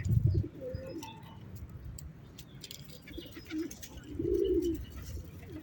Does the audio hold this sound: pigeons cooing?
yes